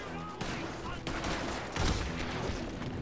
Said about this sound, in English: essa aqui é a minha shotgun